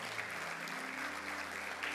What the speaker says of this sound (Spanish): ¿Cuánto dan un fuerte aplauso al Señor, por favor?